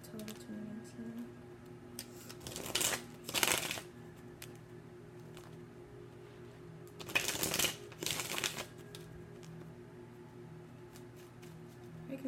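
Tarot cards shuffled during a Pisces reading, in two separate bursts of quick riffling and slapping a few seconds apart, fairly close and clear over a low steady hum, with quiet stretches between.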